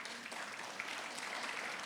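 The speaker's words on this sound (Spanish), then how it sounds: "démosle un aplauso a vuestro pastor" Faint, steady applause from a church congregation for their pastor, an even wash of clapping with no break.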